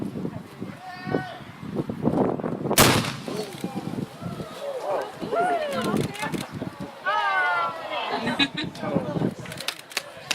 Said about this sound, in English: before we shoot our cannon